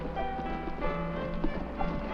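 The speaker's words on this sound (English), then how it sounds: "The high plateaus above Eagle Lake are home for many wild horses." Wild horses on the high plateaus above Eagle Lake, with hooves clip-clopping at a steady, fairly close rhythm over a continuous low rumbling background.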